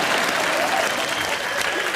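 Loud, continuous applause from a studio audience on a comedy show, a thick wash of clapping with no gaps.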